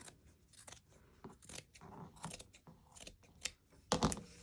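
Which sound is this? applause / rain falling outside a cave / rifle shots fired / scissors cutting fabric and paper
scissors cutting fabric and paper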